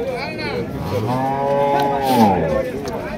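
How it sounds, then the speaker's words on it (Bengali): Cattle low repeatedly at a rural cattle market in Chandina, Comilla, Bangladesh, on a rainy day. The long, droning moos are close and loud and overlap one another against steady crowd and market noise. "এদিকে দেখি গরু একটা"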